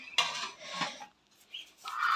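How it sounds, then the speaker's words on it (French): Chickens cluck in short, scratchy bursts with brief pauses between them, fairly close, with no one talking. "Donc là, donc les poules. Donc je sais pas si vous l'entendez, les nouveaux arrivants."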